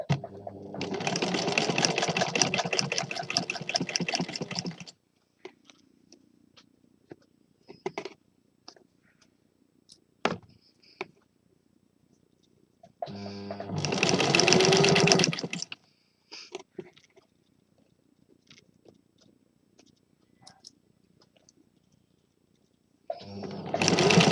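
A sewing machine stitches a blouse seam in three loud, rapid whirring bursts of several seconds each, separated by quiet stretches with faint handling clicks and a low hum.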